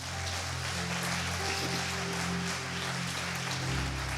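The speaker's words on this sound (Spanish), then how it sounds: "Dale un aplauso al Señor." A church congregation applauds together, a steady dense wash of clapping that holds evenly for several seconds with a low organ or keyboard drone sustained underneath.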